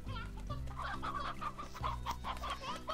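Clucking chickens in the video game Slime Rancher give repeated short calls layered over steady in-game music, loud and close, with no speech over them.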